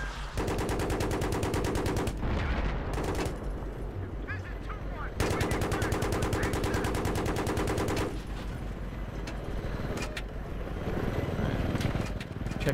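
Gunfire in the video game Battlefield 3, with loud, dense machine-gun bursts that stop briefly and start again several times.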